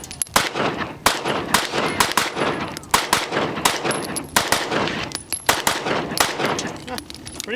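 Rapid volleys of sharp, loud shots from a Staccato C 2011 4-inch pistol ring out close by, firing in quick clusters with brief pauses between strings across the whole stretch.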